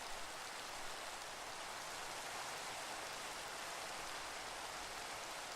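Steady rain in the Minecraft video game makes a dense, even hiss of falling drops, continuous and moderately soft with no other sounds.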